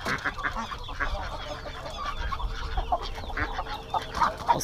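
Ducks, teal, geese, chickens and turkeys gather at a farm feeding, a dense chorus of overlapping quacks, clucks and honks, close and continuous with constant rustling activity.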